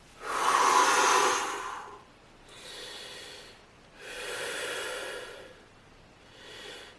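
Deep, slow breaths during a stretching exercise: four airy inhales and exhales in a steady rhythm, close to the mic, the first the loudest, with no talking.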